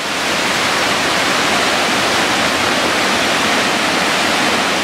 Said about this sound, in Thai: น้ำตกครับ